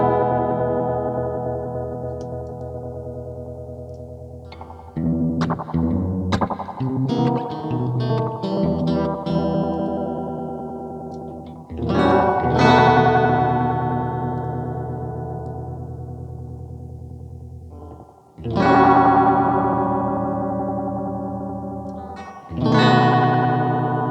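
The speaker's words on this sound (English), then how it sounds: "It's a digital delay that's made to sound like an analog." Electric guitar notes and chords ring out through a warm, softly repeating digital delay emulating analog, with trailing echoes fading between strums and a few quick runs in the middle.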